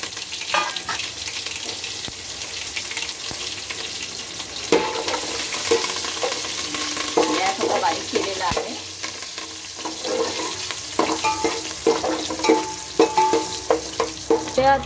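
Chillies, curry leaves and garlic fry in hot oil in a pan, a dense, close crackling sizzle with occasional stirring scrapes and spits building toward the end, with no voices.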